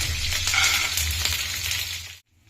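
Curry leaves and peanuts frying in hot oil, a loud, dense crackling sizzle with a low hum beneath, heard close up and steady before cutting off abruptly near the end.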